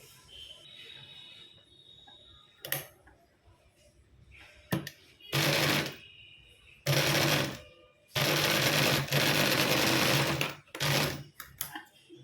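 A sewing machine stitches along a folded strip of fabric for a rose flower blouse latkan. Close bursts of rapid whirring stitching come in several runs of varying length, separated by short quiet pauses.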